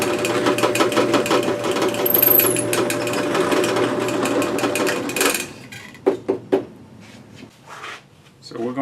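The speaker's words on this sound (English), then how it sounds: "I'm going to take the blank now and drill a 5/16 inch hole in the center that we marked with the template" A drill bores a 5/16 inch hole into a wood bowl blank, a steady whining motor for about five seconds, then stops, followed by several sharp knocks and handling clatter.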